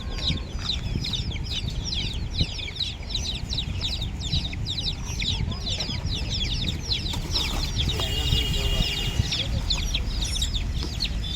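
Many young chicks, short-nose birds among them, packed in boxes before transport, keep up a dense, continuous chorus of high peeping calls close by, with no speech over them.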